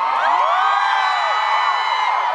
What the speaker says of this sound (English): Ladies and gentlemen, let's give a warm round of applause.